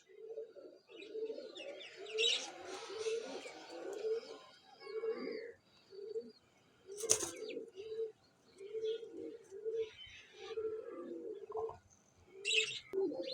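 Pigeons at a pigeon club, flying-breed birds for sale, give repeated soft rhythmic coos in a steady pulsing pattern, with occasional brief sharp flutters or wing flaps cutting through.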